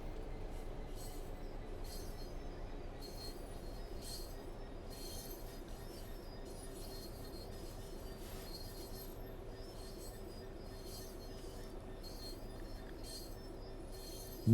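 Freight train in Train Sim World braking on the rails during an intermodal run from London Gateway to East Midlands Gateway, a steady low rumble with faint repeated wheel clicks and a thin squeal held throughout.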